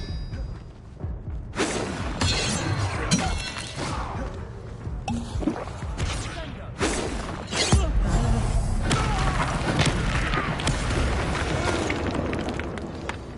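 Spell effects in a Harry Potter video game duel, including Expelliarmus: a string of sharp cracks, bursts and crashing impacts at irregular intervals over a continuous rumbling background.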